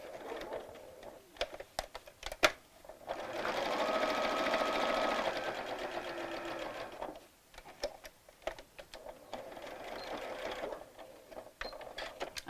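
A sewing machine runs in a steady whirring burst, stitching close to the edge of a Velcro strip on a small Barbie dress, with scattered clicks and handling taps before and after.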